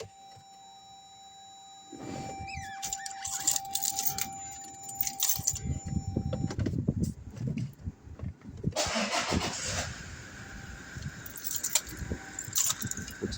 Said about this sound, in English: start the vehicle again